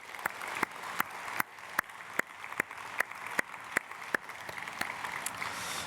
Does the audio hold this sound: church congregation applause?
yes